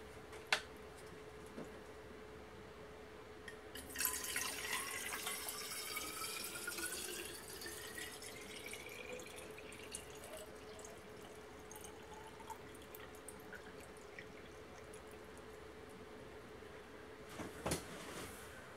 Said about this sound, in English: we are going to transfer the water from this bottle to this bottle.